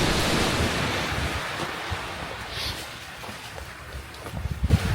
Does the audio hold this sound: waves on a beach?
yes